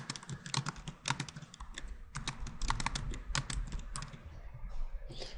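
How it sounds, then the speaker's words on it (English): Someone types on a computer keyboard nearby in quick, uneven bursts of crisp key clicks, with short pauses between runs and no voices. "I'll just type that up."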